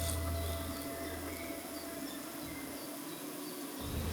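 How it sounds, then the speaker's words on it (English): Honeybees fanning their wings give a steady, dense buzzing hum at close range, continuous throughout with no voices. "They flap their wings continuously."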